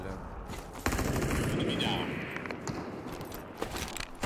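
Rapid bursts of automatic gunfire crack out close and loud in the battle royale game Super People, a sharp onset followed by sustained firing and a few later shots, with a player speaking over it.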